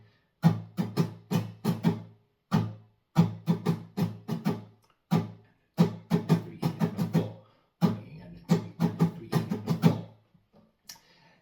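Fast strumming on a strummed instrument in a steady driving pattern, crisp percussive strokes with accented upbeats, close and clear, with a short pause partway through and a brief break near the end.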